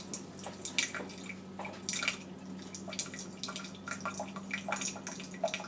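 A Keurig K-Supreme Plus coffee maker runs a water-only cleansing brew, producing quiet, irregular dripping and trickling water with a faint steady mechanical hum underneath.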